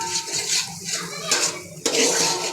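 Finely chopped tomato sizzles and is stirred into masala in a pan for crab curry, close, with a steady hiss, scraping, and a sharp clink of the spoon against the pan.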